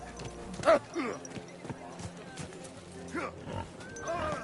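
A horse's hooves clip-clop unevenly in the medieval game Kingdom Come: Deliverance II, moderately close, mixed with other game noises while voices talk over them.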